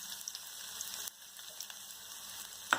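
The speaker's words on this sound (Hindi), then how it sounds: "अभी मैं जो अदरक और लहसुन को जो चॉप किया था वो डाल देती हूँ।" Chopped ginger and garlic hit hot oil already fried with cumin in a kadhai, giving a close, steady sizzle with scattered pops and a brief dip partway through.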